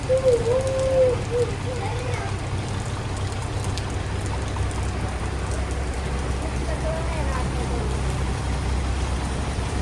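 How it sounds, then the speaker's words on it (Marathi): Steady rain falls continuously during a Lakshmi Puja evening in Maharashtra, a dense even patter with a low rumble beneath, while a person's voice and a faint tonal sound come through at times. "पाऊस पडतो पटापट पडायचं ना पटापट पटापट"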